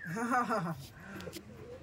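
A Giribaz pigeon with a puffed-up throat coos close by in a low, wavering, throaty run, then quieter murmurs follow with faint sounds in the background.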